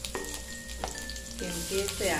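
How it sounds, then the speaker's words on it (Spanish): Garlic and onion frying in a pan for a Mexican-style steak dish, a steady close sizzle with stirring scrapes while a voice speaks briefly over it. "Aquí le vamos a empezar a poner el ajito y la cebolla"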